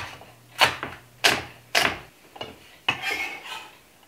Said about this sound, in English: I'm going to get those cut up while I'm cutting up my vegetables.